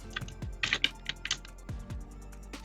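Keys tapped on a computer keyboard while entering an Excel formula, a short irregular run of light clicks up close with brief pauses between strokes.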